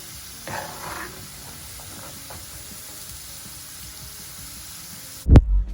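Golden potatoes frying in oil over low heat give a faint, steady sizzle and bubbling throughout, ending with a sudden loud clatter.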